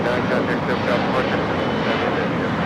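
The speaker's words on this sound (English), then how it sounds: "United Express 5299 taking off to Fresno on 8175." A United Express passenger plane takes off at LAX with a loud, dense roar of engines. A voice talks over the continuous noise throughout.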